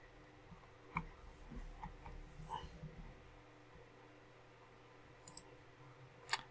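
Computer mouse clicks, a few sharp isolated clicks spaced irregularly over a quiet room background, close and fairly faint.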